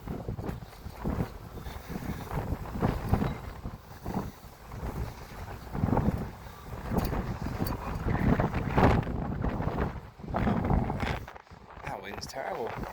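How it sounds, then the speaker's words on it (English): Strong outdoor wind buffets the microphone in La Mata, Spain, a continuous rough rumble that surges and eases throughout while someone talks over it. "That wind's terrible."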